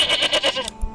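Goats in a medieval village in Manor Lords bleat in a quick run of several wavering, nasal calls, close and clear with no talk.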